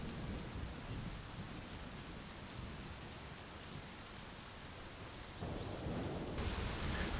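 Rain pours steadily with a low rumble of thunder in the driving game My Summer Car, a dense even wash of rainfall that swells louder near the end, with no voices.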